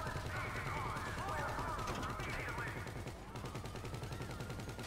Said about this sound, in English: Hey, shoot the shopkeeper.